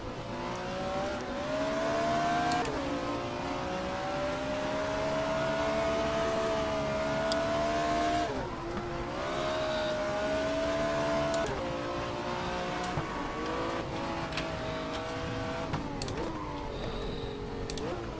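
Race car from a retro championship in the Race07 game at hot Bahrain: a continuous engine whine rising and falling with gear changes and revs, with brief sharp shifts, steady and fairly close throughout.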